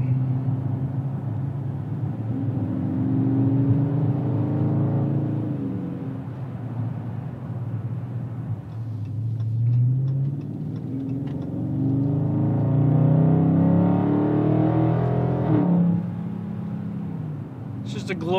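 Deep, rumbling V8 engine of a 2020 Dodge Charger R/T Scat Pack Widebody accelerating hard, with rising engine tones that swell, ease off and climb again, loud and close with a sustained roar.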